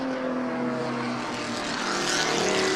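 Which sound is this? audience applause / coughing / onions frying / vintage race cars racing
vintage race cars racing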